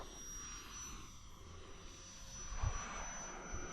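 An RC foam jet plane flies after takeoff with a faint, steady whine at a distance and a brief thump partway through, alone without talk.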